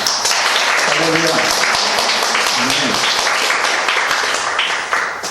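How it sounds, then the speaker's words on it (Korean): A church congregation claps together during a Korean Thanksgiving Sunday service, a thick, even patter of many hands heard close and steady, with a few brief voices mixed underneath, easing off slightly at the end. "우리 감사와 영광의 박수를 올려드립시다"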